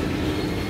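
Sembrani passenger train rolling along the rails, a steady close rumble with dense low-end noise and no clear separate wheel clacks, continuous through the short stretch.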